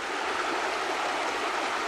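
Muddy stream water rushing steadily after heavy rain on a jungle trek, a continuous close broadband flow with no voices.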